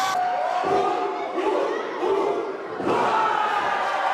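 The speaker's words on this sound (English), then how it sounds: "This crowd's about to go electric here." Wrestling arena crowd roaring as Scotty Too Hottie runs the ropes, a loud sustained mass of cheering and shouting that surges in waves.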